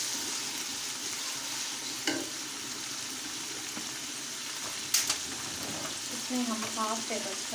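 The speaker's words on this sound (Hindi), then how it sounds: "कीमे को अच्छी तरह फ्राई कर लेंगे" Chicken keema frying in a pan with ginger-garlic paste, a soft steady sizzle with a couple of clinking stirs, fairly quiet, with faint voices near the end.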